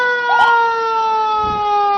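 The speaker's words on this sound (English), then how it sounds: "And here comes the Mercy Ambulance." A Mercy ambulance passing in an MLK Day parade sounds a steady, loud electronic siren tone with strong harmonics, briefly joined by a rising whoop near the start.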